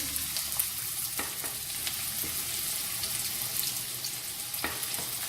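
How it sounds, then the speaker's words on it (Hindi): One chopped onion sizzles steadily in half a cup of olive oil in a pan, a constant close hiss broken by a few light clicks of stirring, with no voices. "अब इसके अंदर मैं ये चॉप किया हुआ एक प्याज डालूंगी"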